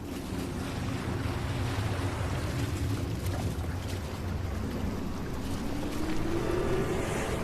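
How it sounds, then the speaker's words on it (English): Dark, swelling water surges with a broad, steady roar and low rumble, like a river rising in waves, continuous and full throughout with no voices. "Suddenly, a dark wave rises up around Achilles."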